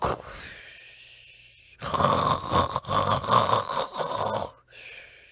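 A voice imitates a badger snoring: a long, rough, snorting snore rumbles loudly for a few seconds between quieter breaths.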